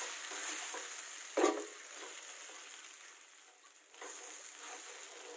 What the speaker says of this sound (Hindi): ये देखिए इस तरह से इसको भूनना है थोड़ी देर।